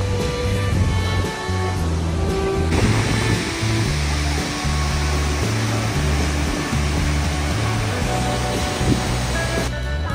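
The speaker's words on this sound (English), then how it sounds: "We made it to Skoga Falls." Skógafoss waterfall in Iceland roars as a constant, loud broadband rush of falling water heard close by, with wind buffeting and a low hum underneath.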